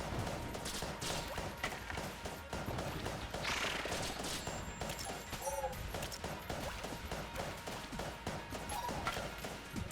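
Dense, continuous gunfire from the video game Enter the Gungeon, with rapid shots and crashing impacts layered into a loud, busy barrage throughout, with no talking.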